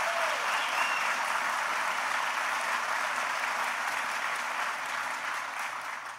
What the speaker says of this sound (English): Please give Evan a big round of applause.